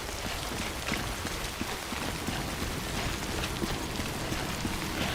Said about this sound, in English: We've been getting near constant timefall in this region for a while now.